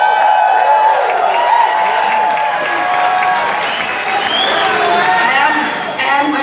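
A rally crowd in St. Louis cheering and applauding at a Trump event, sustained loud clapping mixed with shouts and whistles, with a voice audible over the noise.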